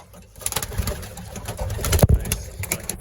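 Young racing pigeons from a race team coo in a loft, with several overlapping soft calls, a louder flutter or thump midway and faint background noise.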